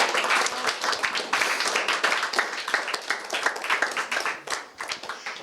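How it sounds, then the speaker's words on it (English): A school assembly audience applauds students after their musical, giving lively, uneven clapping with distinct individual hand claps that swell and ease over several seconds, close and fairly loud. "Can we give a round of applause to our students and Susicle Jr.?"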